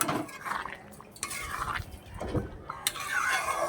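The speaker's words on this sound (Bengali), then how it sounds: "এটাকে আমি এখন ভালো করে আবারও একটু নেড়ে দেবো, নাড়াচাড়া করে দেবো" Aloo dum curry being stirred in a pot, irregular scrapes and clinks of a spoon against the pot, with soft wet shuffling between strokes, close and moderately quiet.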